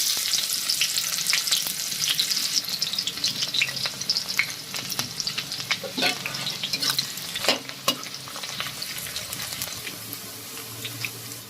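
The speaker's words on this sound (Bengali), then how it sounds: "এবার দিয়ে দেব কুচানো পেঁয়াজ" Chopped onions hitting hot oil with whole garam masala and a bay leaf for mutton biryani, a close, steady crackling sizzle broken by sharp pops and occasional stirring scrapes.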